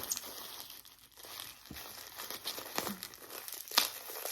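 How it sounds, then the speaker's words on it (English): A package being opened with an X-Acto knife, steady plastic crinkling and crumpling with bits of tearing and a few sharper crunches, close and continuous with no talk. "You just love using the X-Acto knife, it looks like."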